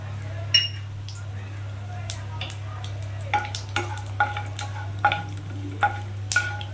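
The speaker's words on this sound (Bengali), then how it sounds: "এই যে গোটা গরম মশলা রেখেছি এটাকেও আমি তেলের মধ্যে দিয়ে দেবো" Whole garam masala spices frying in hot oil in a pan, a low steady sizzle under scattered metallic clinks and scraping stirs, all close by.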